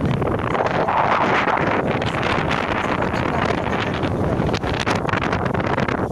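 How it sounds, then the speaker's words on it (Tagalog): Strong wind roars and buffets the microphone continuously at the Balanacan View Deck, a loud, rough rushing that never lets up. "Grabe lakas na hangin."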